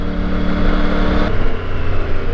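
Triumph Tiger 900 GT Low motorcycle engine dropping through a quick-shifter downshift, a steady mid-pitched drone that shifts abruptly partway through and carries on, close and fairly loud with no talk.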